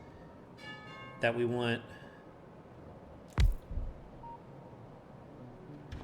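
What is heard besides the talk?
doorbell ringing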